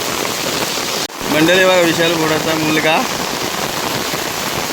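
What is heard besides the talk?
heavy monsoon rain in a Konkan village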